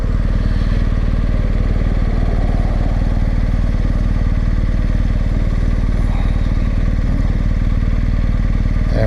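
A BMW R1250 GSA motorcycle idles in first gear, its engine a steady, loud, even thrum with a faint mechanical clatter, running alone without talk.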